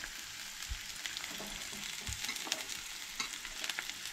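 Garlic sizzles in a pan for Goan chicken curry, giving a steady quiet frying hiss with occasional soft stirring knocks, close but low in level, and no one speaks.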